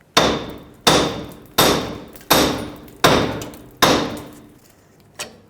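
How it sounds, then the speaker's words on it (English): Six sharp hammer blows strike the outer tie rod end on a 1996-2002 Toyota 4Runner to break it free, metallic and evenly spaced about once per second, close and loud, with a lighter tap at the end. "Take a hammer, hammer this area, and that'll break the tie rod free."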